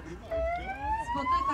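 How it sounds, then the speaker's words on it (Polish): A police car siren warbles and sweeps upward in pitch as its signal is switched at a children's event with the police, sounding fairly loud and close across the short clip, with background noise underneath. "możesz zmienić sobie ten przycisk, który tutaj widzisz, nutki takie, zmieniaj sygnał, mocno go wciskaj."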